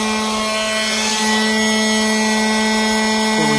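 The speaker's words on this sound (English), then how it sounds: "The Ryobi 18 volt 1 plus electric power blower." A Ryobi One+ 18 volt cordless electric leaf blower runs steadily and loudly up close, a constant whining airflow with a slight pitch shift near the end, with no talking.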